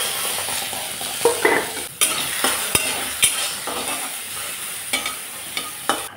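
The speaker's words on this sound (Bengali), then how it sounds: "রসুনগুলোকে আমি একদম খালি খোলাতে সুন্দরভাবে ভেজে নেব।" Garlic cloves dry-roast in an empty pan alongside green chillies and black cumin, giving a soft sizzle broken by close scraping stirs and occasional sharp knocks of a utensil against the pan.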